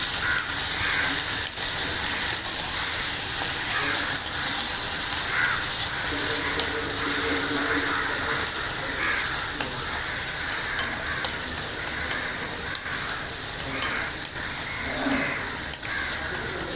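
Onion sautéing in butter in a hot kadai, a continuous loud sizzle and hiss with occasional stirring scrapes, steady throughout and free of talk.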